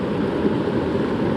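A small creek flows with a continuous close, broadband rushing and burbling of water, steady and even with no voices.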